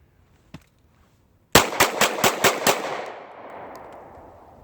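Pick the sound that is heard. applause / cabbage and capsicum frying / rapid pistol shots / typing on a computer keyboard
rapid pistol shots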